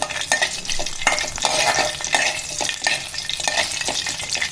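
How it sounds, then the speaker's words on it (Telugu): Coriander seeds, cinnamon and cloves are lightly dry-roasted and stirred in a pan. Dry rattling scrapes repeat close up over a soft sizzle, with no speech. "ముందుగా ధనియాలు, పట్టా, మొగ్గ లైట్గా వేయించుకోవాలి"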